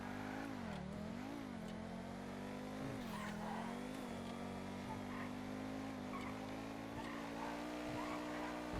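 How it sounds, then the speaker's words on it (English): A car in GTA is driven with short shifting and brake boosting. Its engine drones steadily, rising and dipping in pitch through the gear changes, with faint tire noise beneath. "gonna try short shifting and brake boosting"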